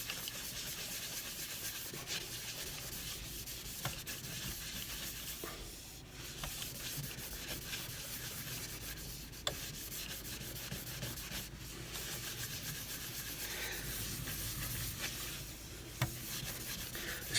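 A wooden winged bowl is buffed by hand with microcrystalline wax, a soft, steady rubbing and brushing that goes on at length at close range with a few small knocks.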